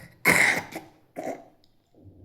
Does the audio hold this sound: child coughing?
yes